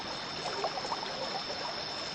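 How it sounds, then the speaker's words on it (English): Rushing river water carrying a small boat midstream, heard as a steady, even broadband wash with faint trickling detail, alone and moderately quiet. "The rushing water took the boat into the middle of the river."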